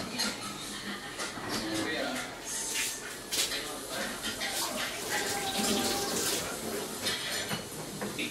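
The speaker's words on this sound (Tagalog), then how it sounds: "Maglagay tayo ng tubig." Water pours steadily into a cooking pot for lechon paksiw, a continuous splashing rush under a person talking throughout.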